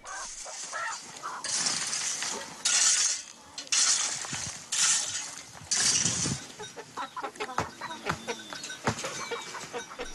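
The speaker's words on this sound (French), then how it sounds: "Je m'occupe de mes chèvres et de mes poules." Chickens on a Namibian farm cluck and squawk close by in short bursts, with clinking sounds and other farmyard noises in between.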